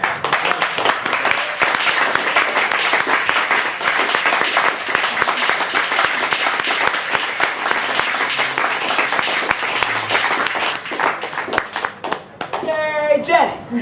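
Sustained audience applause after a poetry reading at Chicago's In One Ear, with dense, steady clapping from a close crowd and voices rising near the end.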